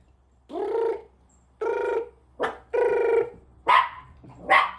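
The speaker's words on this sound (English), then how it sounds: "Who you barking at?" A dog barks repeatedly up close, six loud, drawn-out woofs and yelps spaced unevenly, with a faint low hum in the background.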